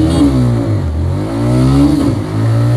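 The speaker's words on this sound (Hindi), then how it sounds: "हम चला रहे हैं नॉन परफॉर्मेंस वाली रेडर" TVS Raider 125 motorcycle engine revving hard during a race on a non-performance bike, a loud, close mid-pitched engine drone that rises and falls in pitch throughout.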